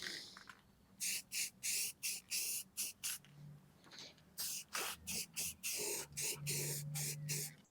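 A spray can paints one side of a metal plate in about fifteen short, sharp hissing bursts, close and fairly quiet, separated by brief pauses, with faint background noise between the bursts.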